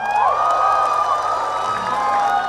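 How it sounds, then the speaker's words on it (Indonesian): A concert crowd at a show at The Sounds Project Vol.6 in 2023 cheers loudly and steadily, with a shrill sustained whistle or scream riding above the din. "Tepuk tangan teman-teman."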